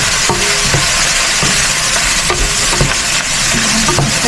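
Tomato goes into a sizzling pan of tuna spaghetti sauce, bringing steady loud frying hiss with clattering stirs and spoon taps throughout, close up, no talking.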